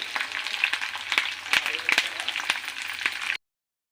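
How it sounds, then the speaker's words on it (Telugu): Garlic cloves frying in hot oil in a home kitchen, giving a steady close crackling sizzle with sharp pops scattered throughout, no talking. "వెల్లుల్లిపాయలు వేసి వేయించాలి ఫస్ట్ నూనెలోనే"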